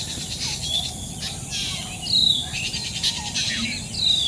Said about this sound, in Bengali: পাখিগুলা কত সুন্দর ঘুরতেছে সকালবেলা